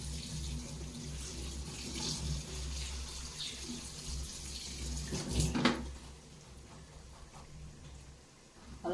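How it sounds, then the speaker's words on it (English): Cold tap water runs steadily over carrot and green beans being rinsed in a sink, a continuous close splashing stream with a brief louder splash midway. "So now I'm going to rinse it with cold water."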